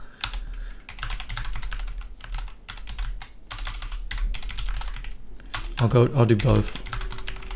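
Someone types fast on a computer keyboard, dense clicking bursts broken by short pauses, close and clear, before a brief spoken phrase near the end.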